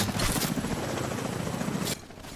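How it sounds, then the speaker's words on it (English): Loud, steady thudding rotor of a helicopter arriving in a video game, close and continuous before cutting off abruptly near the end. "it will trigger the second chopper"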